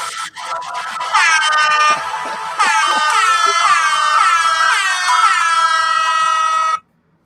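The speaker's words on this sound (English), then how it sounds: "New favorite thing ever is the X-Files air horn." A loud, blaring X-Files air horn sound effect plays in repeated wavering blasts, close and harsh, then cuts off abruptly to silence.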